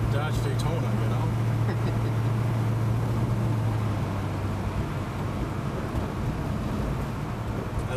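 A Dodge Daytona with a 440 Magnum V8 drives along, its engine a low steady rumble mixed with road and wind noise inside the cabin, fairly constant throughout.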